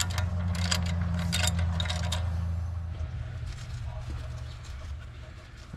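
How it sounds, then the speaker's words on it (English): Ratchet loosening the front brake caliper bolts on a 2004 Dodge Durango, a run of rapid clicking bursts over a low steady hum, close and fairly loud early, then easing off. "Go ahead and get these calipers off."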